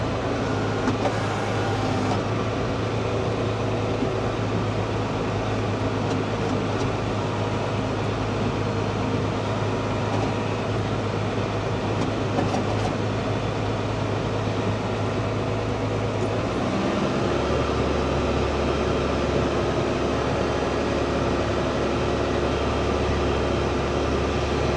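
JCB Fastrac tractor ploughing in muck, its engine a steady, continuous drone close by, with a shift in pitch and load near the end; no talking.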